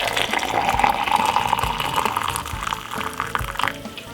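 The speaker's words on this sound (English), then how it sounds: "all you're going to do is pour some hot water on it" Hot water pours from a kettle into a glass over sliced ginger, a steady splashing stream that fills the glass for several seconds, loud and close.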